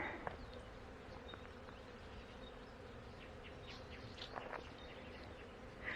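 A continuous low drone of many bees buzzing at a distance in Malibu Creek State Park, steady and faint, with a few chirps of birds rising above it.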